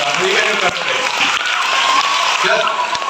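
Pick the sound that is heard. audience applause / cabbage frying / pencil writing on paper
audience applause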